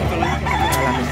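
Rooster crowing at a livestock market, a single loud, close crow lasting about a second amid crowd noise.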